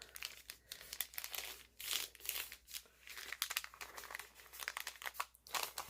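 Small paper sack crinkles and crumples as it is folded for a journal, a close, quiet series of irregular rustling crackles and soft creases.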